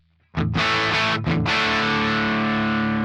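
Electric guitar played through an Axe-Fx III Dumble Overdrive Special amp model, a few struck overdriven chords that ring out and sustain loudly after a brief quiet start, with no talking.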